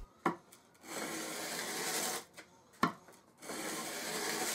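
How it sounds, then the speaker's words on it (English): Rust is scrubbed off the bevel of a vintage Stanley No. 4 hand plane iron in long rasping strokes, each preceded by a sharp click, quiet and close with brief pauses between passes. "I cleaned up the bevel too, this was just to remove the rust rather than sharpen it."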